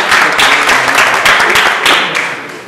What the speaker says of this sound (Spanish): Le hacemos también un aplauso a Mari Carmen.